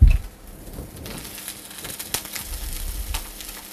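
Poultry browning in a frying pan, part of a roast poultry dish with truffle bulgur, gives a steady close sizzle with a soft crackle that builds toward the end, heard alone with no talk.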